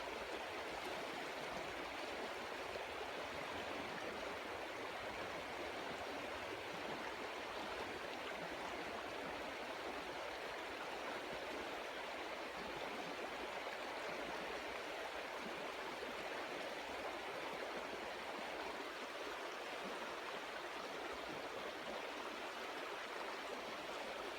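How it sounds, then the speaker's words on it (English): A river flows in winter woodland with a steady, full rush of water that stays even and unbroken throughout, close by and with no voices. "Absolutely love being by the river."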